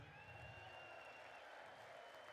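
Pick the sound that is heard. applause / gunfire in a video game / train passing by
applause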